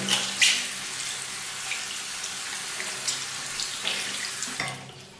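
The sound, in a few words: rinsing a Sonax application sponge under running tap water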